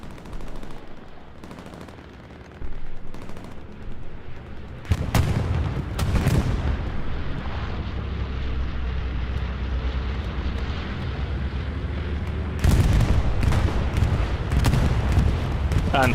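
Heavy explosions and gunfire during a bombing run in a WWII shooter game on Omaha with 36-versus-36 players, a loud continuous rumble with sharp blasts landing at several points.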